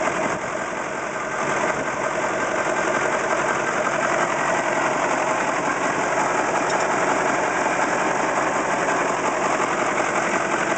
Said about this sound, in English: it's only hitting on, at the most, 7 cylinders